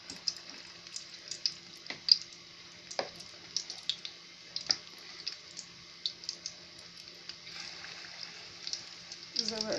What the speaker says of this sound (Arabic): هنا بقى هقلي هحط الراس كده